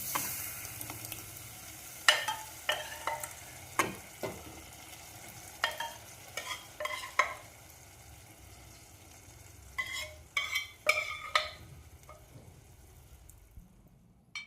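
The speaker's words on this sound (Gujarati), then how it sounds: "સરસ રીતે મિક્સ કરી દઈશું અને હવે પાકવા દઈએ" Moong dal being stirred into cooked tomatoes and chillies in a pot makes a series of close spatula scrapes and clinks, each stroke bringing a brief wet sizzle, with no voices.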